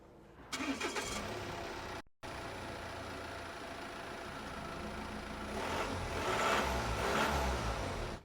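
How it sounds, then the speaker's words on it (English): A 2018 Volvo XC90 D5 Inscription diesel cranks and fires, then settles into a steady, fairly loud idle. After a brief pause the idle swells slightly, with no talking. "we must first start the XC90"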